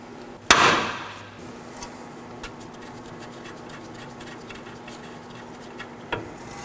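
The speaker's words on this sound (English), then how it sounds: "we'll be hitting the knuckle with a hammer" A single sharp metallic hammer strike on a steering knuckle of a 2013-2019 Nissan Sentra rings out, followed by faint scraping and a softer knock near the end.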